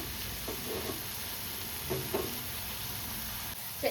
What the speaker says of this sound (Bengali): আমি আর চাপা দিচ্ছি না, এইভাবেই ভেজে দিচ্ছি